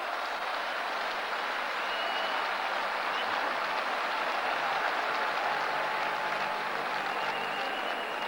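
Large crowd at a Karachi political rally in December 1990 applauding, a dense, continuous wash of clapping holding steady at full strength throughout with no pauses.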